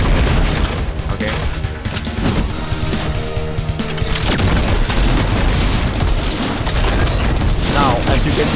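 Shotgun blasts from the movement shooter Unyielder come as loud, dense booms and crashes amid chaotic game action and music, with someone talking over the constant barrage.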